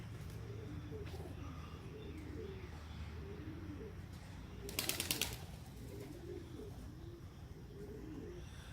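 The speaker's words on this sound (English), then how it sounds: "I hear him flapping around" A young pigeon in a tree gives a brief burst of wing flaps midway, set against soft, repeated cooing and chirps from other pigeons nearby, all faint and distant.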